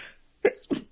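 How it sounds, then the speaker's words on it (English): A person sneezes twice in close succession during a talk recording, each a sharp, loud burst of breath and voice about a quarter second apart, with no speech around them. "edit out my sneezing"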